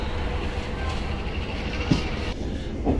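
Steady low rumble of a high-speed train running, heard from inside a carriage with a continuous broadband drone and faint knocks, alone without talk.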